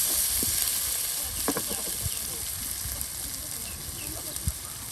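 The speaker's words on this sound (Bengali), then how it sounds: "আর এখন হাঁসের মাংস পাকানো হচ্ছে" Duck meat cooked with onion and garlic in a village kitchen, giving a steady close sizzle and hiss of frying, broken by occasional scraping stirs and light knocks of a utensil against the pan.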